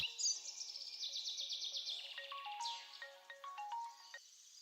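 A phone ringtone plays a chirpy, bird-like electronic melody of quick descending trills and stepped beeps, moderately quiet and alone.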